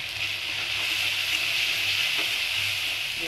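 Spice paste with cumin powder and chaat masala sizzles and fries steadily in hot oil, a continuous close hiss with faint stirring scrapes.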